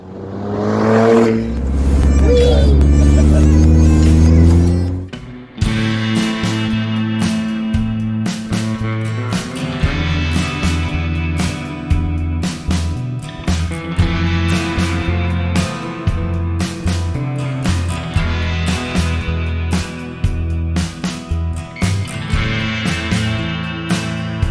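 Gilson garden tractor engine low on oil running steadily, a loud close continuous rumble with a rattling tone and small irregular bumps, after a brief louder burst at the start.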